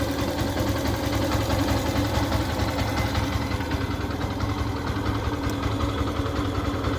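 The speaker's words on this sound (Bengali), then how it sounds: "সাউন্ডটা দেখুন খুবই সুন্দর একটি সাউন্ড হচ্ছে ইঞ্জিনের কাছ থেকে" A Yamaha FZ V2 motorcycle engine idles in neutral, a steady, even low rumble held without revving for several seconds, close and moderately loud.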